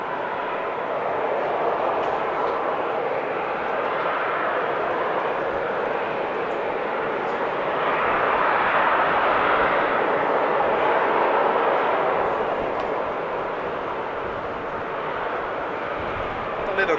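Jet airliner engines roar steadily at Amsterdam Schiphol Airport, a loud, broad and continuous rumble that swells slightly in the middle as aircraft wait on the ground, with no speech over it.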